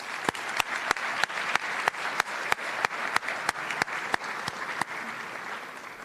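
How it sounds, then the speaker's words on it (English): An audience at a 2023 scholarship evening applauds in a steady wave of clapping, with sharp individual claps cutting through at a near-regular pace before it thins out. "Round of applause for our community of supporters here, please."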